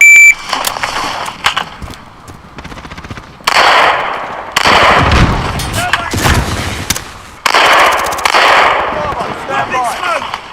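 An M4 rifle fires in the Modern Warfare video game, with loud, close bursts of automatic gunfire separated by short pauses for reloading. A voice is faintly present between the shots.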